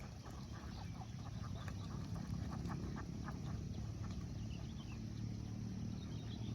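A group of ducks quacks repeatedly in short scattered calls over steady outdoor background noise during a regular morning in Wonosobo, Central Java, Indonesia, with no talking.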